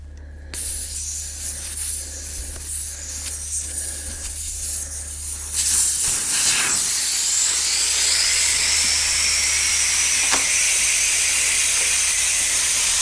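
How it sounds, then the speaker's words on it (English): Air rushes with a loud, steady hiss from a car tire on a 2011 Chevy Impala after its valve stem is pulled. The hiss starts moderate, then jumps louder midway and keeps blowing strongly to the end. "We're gonna pull the old valve stem out of it to get the air out of it quickly."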